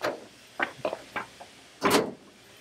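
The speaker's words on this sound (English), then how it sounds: "Close the lower door." Lower door of an Oce VarioPrint 6000 production printer swinging shut: a few light clicks and taps of handling, then a firmer, louder thud of the panel closing near the end, close by with no talk.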